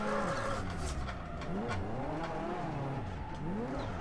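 A Nissan S13 drifting in the Assetto Corsa racing game, its engine revving up and down in repeated sweeping surges, with faint tire squeal underneath.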